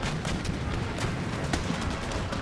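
Cannon fire booms from an Empire: Total War battle, a dense barrage of overlapping heavy blasts and rumbling reports, loud and continuous with sharper individual shots breaking through.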